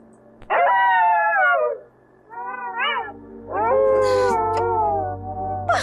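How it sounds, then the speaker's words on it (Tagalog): Several dogs howl close by in long, rising and wavering cries, with a short lull before a second round of overlapping howls. "Bakit tumaalulong ang mga aso ko?"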